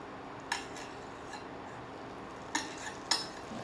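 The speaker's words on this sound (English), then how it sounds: "Now I'm going to add in some butter, about a tablespoon or two, more the better." A few sharp metallic clinks of a utensil against a hot pan on an electric stove at about 220 degrees while butter goes in for a quinoa bake, spaced apart over a faint steady background hum.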